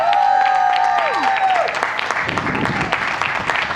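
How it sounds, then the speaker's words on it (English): A crowd at an outdoor Heathrow fun day applauds and cheers as international swimmer Mark Foster is welcomed on stage. Dense, steady clapping and cheering run throughout, with brief sliding tones near the start. "Let's hear an almighty cheer, roar, round of applause as we welcome on stage international swimmer"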